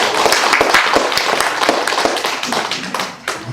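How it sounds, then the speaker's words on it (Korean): A church congregation clapping together at a Sunday worship service, a close, loud burst of sharp hand claps that stays steady and dense for several seconds. "박수 한번 칩시다"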